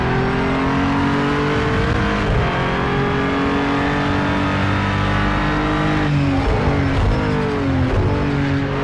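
A DI NSX GT3 race car engine in Project Cars 2 at Daytona qualifying drones loudly and steadily, pitch sliding down through downshifts and rising again, with no talk.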